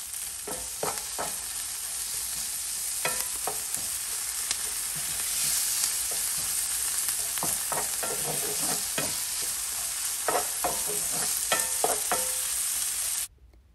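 Kale cooking in a hot pan as filling for stuffed plantain wraps, a constant close sizzle broken by irregular scrapes and clacks of stirring, ending abruptly with no talking.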